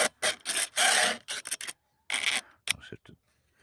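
A hand file is worked across a chainsaw chain tooth to sharpen it, making several short, close, gritty rasping strokes in uneven bursts separated by brief silences.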